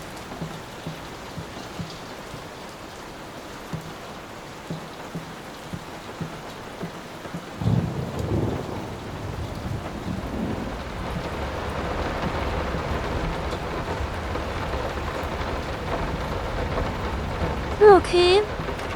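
Rain and thunder from the video game Layers of Fear: steady rainfall that swells in intensity partway through, with low rumbling thunder and a brief sharp accent near the end.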